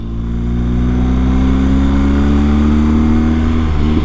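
A BMW R1250GS motorcycle with a BT-Moto stage 1 engine upgrade runs with a loud, smooth, steady engine drone that rises slightly in pitch, heard close up and alone.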